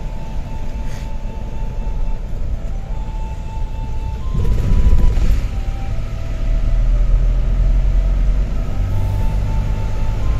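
Inside a Bolero car climbing a mountain road in East Sikkim, a low steady engine and road rumble drones throughout, swelling louder partway through as the vehicle works harder, with no talking.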